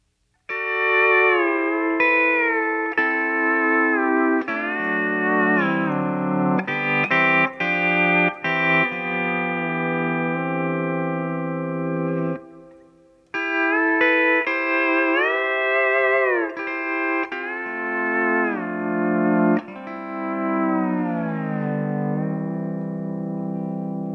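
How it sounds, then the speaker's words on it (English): Pedal steel guitar played through a Keeley Caverns delay-reverb pedal set to spring reverb, sustained gliding chords and bends ringing out with a lush reverberant tail, loud and alone with a short pause midway. "now to me that's a good reverb sound"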